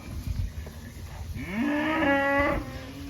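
A cow in a grazing mob held behind a wire gate lets out a long, loud mooing bellow close by, following some rustling and thumps.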